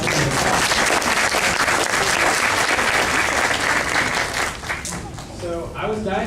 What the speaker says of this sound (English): go ahead and give yourselves a round of applause